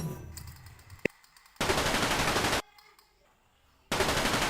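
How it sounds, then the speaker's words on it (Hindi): A toy gun fires in two long, loud rapid bursts like a machine gun, separated by a quieter stretch with a single sharp click. "अब छोटा डॉन आपको बंदूक से फायरिंग करके दिखाएगा।"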